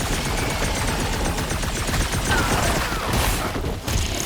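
Rapid, continuous automatic gunfire from a firefight in Marvel's Guardians of the Galaxy video game, dense and loud throughout with mechanical clatter layered in.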